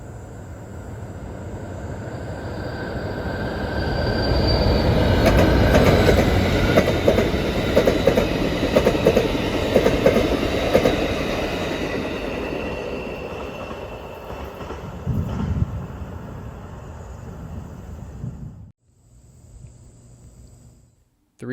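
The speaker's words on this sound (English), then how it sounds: "we are on the Amtrak Michigan Line watching Amtrak train 353 race west." Amtrak passenger train 353 rumbles west along the Michigan Line in the Huron River Valley, swelling to a loud roar with rattling wheels, then fading away while insects chirp faintly in the background.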